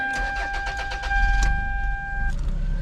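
A high-mileage Toyota RAV4 with about 181,000 miles cranks over briefly, then catches and settles into a low, quiet idle, recorded up close with a steady tone in the background.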